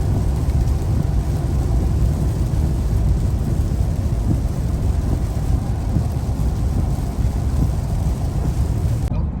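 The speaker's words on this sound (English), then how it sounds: "Here we are back in the rain." Steady, broadband rain noise with a low rumble, heard during a trailer trip through the Northwest near the Snake River, constant throughout with wind-like buffeting and no talking.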